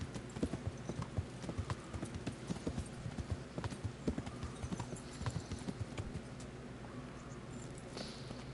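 Horse hooves clip-clop at a steady walking rhythm in the medieval game Kingdom Come Deliverance, moderately close and continuous, with a brief distant whinny near the end.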